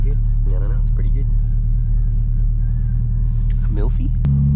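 A loud convertible on a drop-top coffee run rumbles steadily with a deep, constant engine drone, and its pitch shifts near the end. Several short bursts of close talking sit over the engine.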